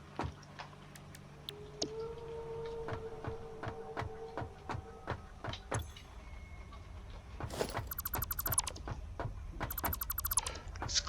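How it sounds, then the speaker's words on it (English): Constructor machines producing screws in the factory game Satisfactory give off a steady mechanical clatter of repeated clicks and ratchet-like ticks over a low hum, with brighter metallic bursts toward the end. "2 constructors. Both making even more screws."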